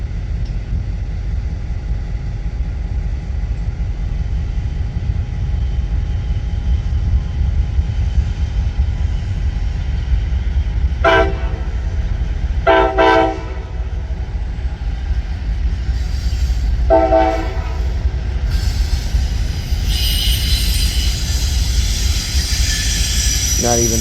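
A Norfolk Southern intermodal freight train passes near a bridge in Bridgeport, Alabama, giving a loud, steady, close rumble that lasts throughout, with a few brief tonal bursts partway through.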